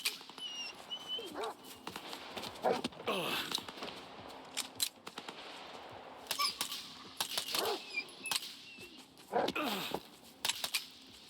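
Several hostile dogs attacking in the video game S.T.A.L.K.E.R. 2: Heart of Chornobyl, with repeated barks, growls and whimpers in bursts over game ambience and gunfire-like thumps.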